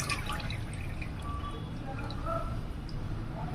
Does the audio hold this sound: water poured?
yes